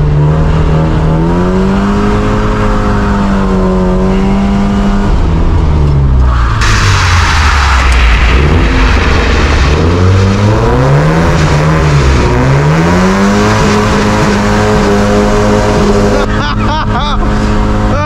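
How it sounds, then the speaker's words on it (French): A Volvo 16-valve engine with a rally-car bark revs up and down repeatedly, close and very loud, its pitch swooping and sliding through a continuous, raspy, throbbing roar. "Le 16V Volvo, il fait un bruit de rallye de groupe H là."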